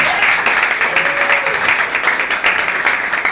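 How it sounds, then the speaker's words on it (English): Loud, dense applause from a crowd, steady clapping throughout with no pauses. "Let's give them a round of applause."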